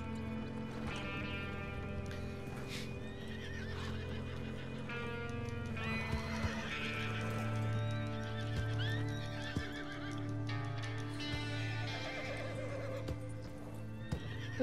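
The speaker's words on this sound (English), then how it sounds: "Here you go, horsey." Horse from Red Dead Redemption 2 whinnying over repeated clip-clopping hooves, steady and close, with game music and ambience layered throughout and no talk.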